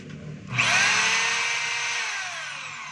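DeWalt D25032 rotary hammer in drill mode spinning up with a sharp start and holding a steady, loud high whine that slowly eases off, close by and alone.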